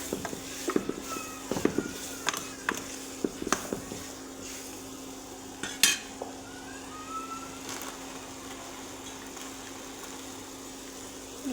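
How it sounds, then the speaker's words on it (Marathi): Chopped bottle gourd being stirred and mixed in a pan, with irregular scraping clicks and taps from the spatula over a steady low hum, close and fairly quiet. "जे दुधी भोपळा चिरलेला होता ते एकजीव करून घ्यायचा"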